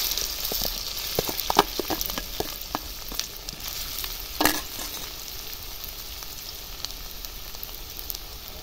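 Boiled potatoes dropped into hot white oil in a kadai hiss and crackle, with a brief louder burst as they go in, then a steadier quieter sizzle and scattered spatter pops up close, no speech.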